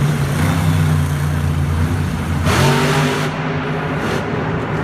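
A monster truck engine roars loudly and continuously at a Monster Jam stadium event in Houston, its deep, throbbing drone swelling as the driver launches down the racing lane.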